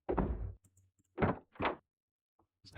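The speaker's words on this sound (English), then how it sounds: "It's a heavy door." Heavy door in a video game thudding shut and being pushed: a loud close thump followed by two separate heavy knocks, with a faint bump trailing at the end, with no talking over it.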